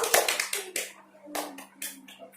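A small group in a classroom claps together in a grade 4 social studies lesson, a few bursts of close, uneven hand claps with pauses between, over a steady low hum.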